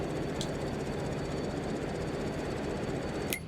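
A farm vehicle's engine runs in Farming Simulator 22 as a steady, loud mechanical drone throughout, with two brief faint clicks and no speech.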